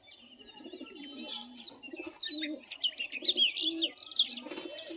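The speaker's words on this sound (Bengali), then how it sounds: "পায়রা ছেড়েছি দেখো, গলা কাঁপানোটা দেখো পায়রা।" Pigeons coo in rippling, throaty bursts while small birds chirp and twitter brightly throughout, a busy, close chorus with no talking.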